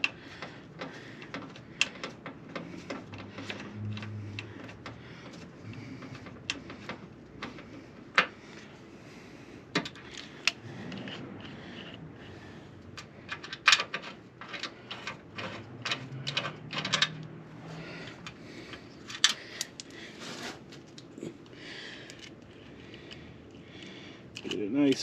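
A bolt is unthreaded on a Ford Focus Mk1 in a repair, producing a long run of close, irregular ratchet-like clicks and small metallic ticks against a low background hum.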